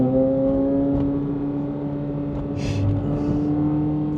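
A Chevrolet Corvette Z06 with four exhaust pipes hums in a steady low drone with layered harmonics, holding at a fairly constant pitch, heard from inside and without speech.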